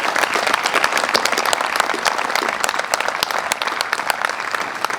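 Audience applause at a veterans support center ribbon-cutting ceremony, many people clapping steadily with sharp, distinct individual claps, close and lively throughout, without talk.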